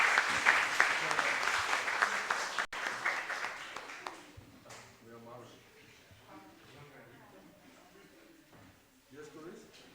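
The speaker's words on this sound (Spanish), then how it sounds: "Un aplauso, por favor." Applause from an audience at an academic science and technology week event, a dense burst of clapping for the first four seconds that thins and fades, leaving quiet murmuring and voices in the room afterward.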